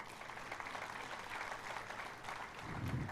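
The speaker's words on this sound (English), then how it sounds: "I want us to give a round of applause to this great African hero" Faint, distant round of applause from an awards ceremony crowd in Mombasa, cheering an African hero; a steady patter of clapping under a low murmur.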